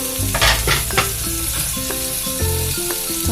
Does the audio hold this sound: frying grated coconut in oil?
yes